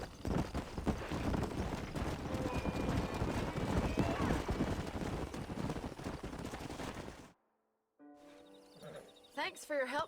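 Horse hooves clip-clop in the Red Dead Redemption video game, a busy, rapid patter of hoofbeats mixed with other game noise and voices, ending abruptly in silence before speech resumes.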